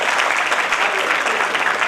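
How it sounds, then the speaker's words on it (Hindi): Loud, dense audience applause from a crowd at a gathering where a women's committee is honouring a former sessions judge, a continuous wash of clapping filling the whole moment. "जोरदार तालियां"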